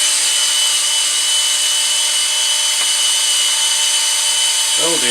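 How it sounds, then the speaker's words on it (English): Small-bit power drill boring a hole through three layers of plastic on a scale-model part, a loud, steady high-pitched whine held throughout with one brief tick, then a falling groan as it winds down. "Pull it out of there and drill our hole."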